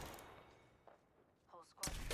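Gunfire in Apex Legends: a sharp shot opens the moment, a few faint pops follow, then a loud, dense burst of shooting closes it.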